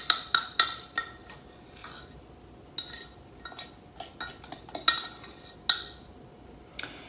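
Sourdough starter being spooned into a crock, heard as a sparse series of sharp, close clinks and taps of utensil against container with quiet gaps between them.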